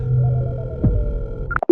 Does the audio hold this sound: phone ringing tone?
yes